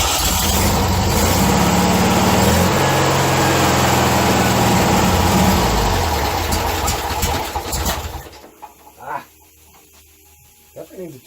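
A 1957 VW Beetle engine that needs a tune-up and a carburetor adjustment idles loudly and close with a rough, steady rumble for about eight seconds, then shuts off, leaving faint clicks and handling noises.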